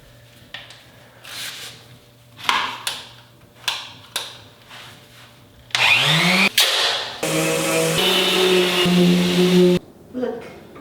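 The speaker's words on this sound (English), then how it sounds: "Sander." An electric sander works on wooden stairs, first in short intermittent bursts, then in a long sustained whine that stops briefly and resumes. A voice speaks in the clip.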